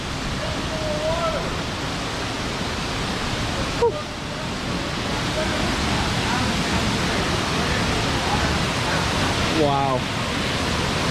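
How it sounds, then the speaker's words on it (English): A big waterfall on a backpacking trail in Alabama's Walls of Jericho gives off a steady, broad rushing roar from some distance, and a hiker briefly exclaims over it. "And if you see up there, there's a big old waterfall."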